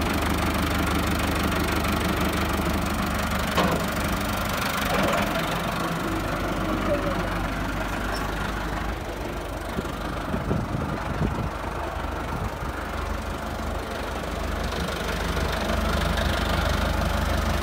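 A Massey Ferguson 385 tractor engine runs steadily nearby with a low, knocking diesel throb throughout, while people talk over it.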